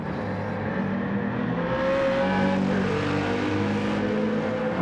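A BMW Z4 race car in a racing video game revs hard, its engine note droning loud and steady with rising and falling pitch, with no pauses, throughout.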